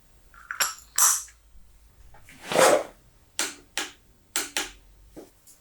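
A torque wrench tightening an oil filter cartridge on a BMW S1000R motorcycle gives several sharp, close clicks and ratcheting snaps, spaced irregularly with quiet gaps between them.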